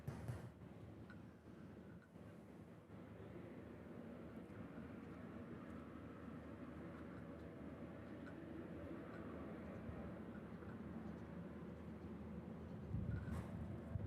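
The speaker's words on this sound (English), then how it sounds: "That guy's clear for takeoff." A jet airliner rolls for takeoff at Honolulu airport in Hawaii, a steady distant roar that swells slowly and grows louder toward the end, with no one speaking.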